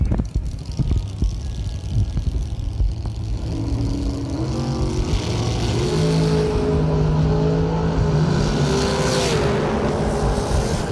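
A Corvette drag racing at a bracket racing event, its engine building into a loud, sustained roar with rising revs over steady crowd and track noise.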